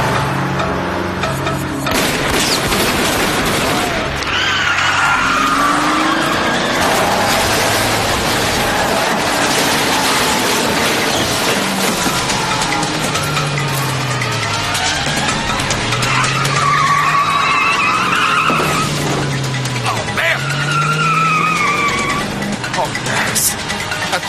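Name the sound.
car driving fast with tires skidding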